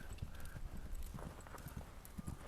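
Horse hooves clip-clop in a quick, uneven rhythm on the ground as a working cow horse moves about, the hoofbeats fairly faint and close under a soft background, without speech.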